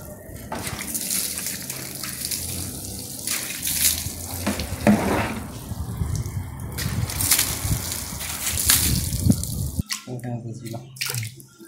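Water pours and splashes over a motorbike being washed at home, running in uneven bursts with short gaps and a sudden break near the end.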